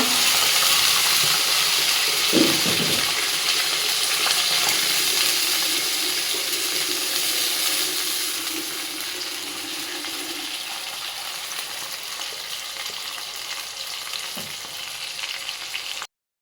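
Ginger-garlic paste frying in a pan after fried onions, with a little water added to it; a loud watery hiss at first that slowly settles into a softer, steady sizzle, with no one speaking.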